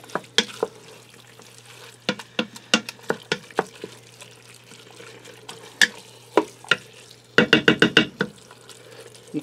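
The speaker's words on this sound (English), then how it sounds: "I'm going to give this a stir." Taco casserole with ground beef and cheese stirred in the pot of an Instant Pot Duo Crisp, a series of sharp spoon scrapes and knocks against the pot, irregular then a quick rapid burst, close over a low hum.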